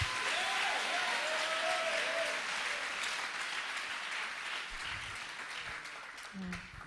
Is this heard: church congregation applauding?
yes